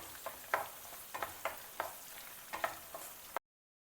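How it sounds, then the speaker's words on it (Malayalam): Ginger, green chili and garlic sauté in a pan for sardine pickle, a steady soft sizzle broken by repeated scraping stirs about every half second, close and fairly quiet, with no voices. "ഇഞ്ചിയും പച്ചമുളകും വെളുത്തുള്ളിയൊക്കെ ഒന്ന് വഴണ്ട് വരുമ്പോഴേക്കും"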